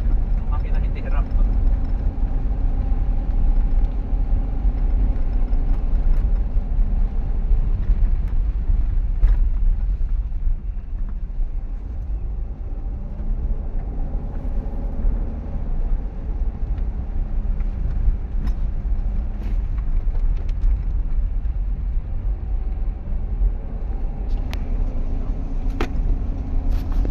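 A Mitsubishi Montero's engine runs steadily on a road test along a hilly Tagaytay road, with a continuous low rumble and road noise throughout, while someone talks over it.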